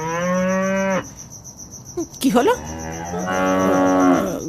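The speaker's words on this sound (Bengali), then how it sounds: "গরুগুলো এইভাবে চিৎকার করছে কেন?" Cartoon cows give two long, loud, drawn-out moos, one at the start and another near the end, with a brief spoken line between them over a steady high cricket-like whine on a foggy night.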